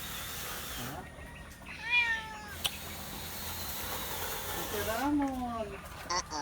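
A house cat in a Bicol kitchen meows twice, near and fairly clear, each a rising-falling cry, with low background noise and a faint voice nearby.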